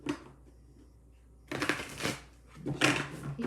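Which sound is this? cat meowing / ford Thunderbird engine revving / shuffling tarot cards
shuffling tarot cards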